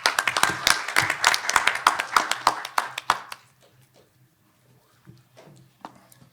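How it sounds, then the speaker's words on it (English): Symposium audience clapping to welcome the first speaker, Dr. David Brotherton, a scattered round of distinct hand claps that thins out after about three seconds, leaving a few isolated claps and quiet room sounds. "can we give a round of applause to welcome our first speaker"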